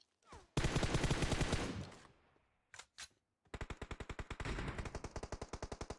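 Automatic weapon fire in PUBG, with a dense opening burst, a couple of isolated shots, then a long rapid rhythmic string of rounds, loud and close.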